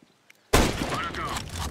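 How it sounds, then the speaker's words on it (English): A flashbang grenade goes off in a CS:GO match, a sharp sudden burst after a few faint taps, followed by loud sustained ringing noise with a brief whining tone. "Throw in a flashbang."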